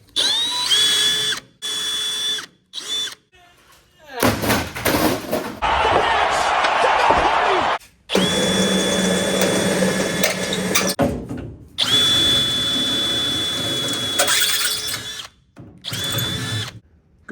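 A power drill drilling out pop rivets on a service truck hinge, several whining bursts broken by pauses, with tool clatter and someone talking in between.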